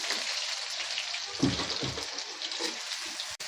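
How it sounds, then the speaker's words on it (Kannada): Onions sizzling in melted butter in a pan while sweet corn fried rice is being made, a steady bright hiss with a few louder crackles midway. "ನೋಡಿ ಫ್ರೈ ಆಗ್ತಾ ಇದೆ"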